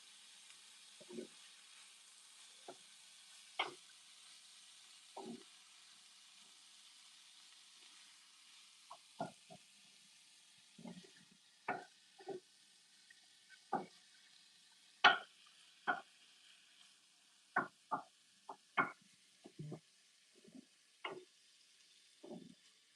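Sausage cooking in an iron pan, a quiet background hiss broken by scattered sharp pops and spits at irregular intervals, with no talking.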